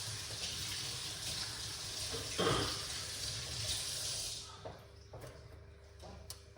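Water runs steadily from a kitchen tap during okra drink preparation, a close hiss that stops partway through, followed by a few light clicks and clatters.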